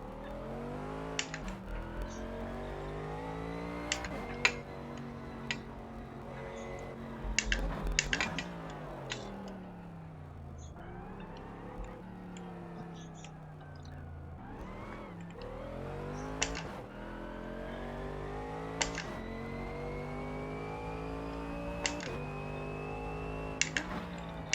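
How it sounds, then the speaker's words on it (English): Mercedes AMG GT3 lapping the Nürburgring in a racing simulator, engine droning and rising through gears with repeated shifts and revs, a continuous mid-level roar with occasional sharp clicks over it. "we're going to be driving the Mercedes AMG GT3, and we're going to be racing on the Nürburgring"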